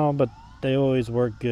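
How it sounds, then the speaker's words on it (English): Emergency vehicle sirens wail in the street, their rising and falling tones sweeping in loud, repeated bursts, with someone talking over them. "And sorry about the sirens."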